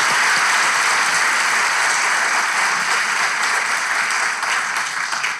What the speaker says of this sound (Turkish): Hadi coşkulu alkış kardeşlerime.